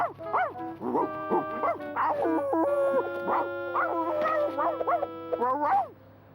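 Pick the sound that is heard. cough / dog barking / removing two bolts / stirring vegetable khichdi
dog barking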